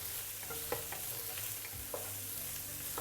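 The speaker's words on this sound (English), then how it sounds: "You just fry until we can really have the aroma out." Five cloves of chopped garlic frying over medium heat in a pan, a steady close sizzle with a few sharp scrapes and taps of a spatula, no voices.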